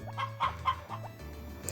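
Chickens in the Harvest Moon video game cluck in quick repeated synthetic bursts over a steady low game tone, close and moderately loud.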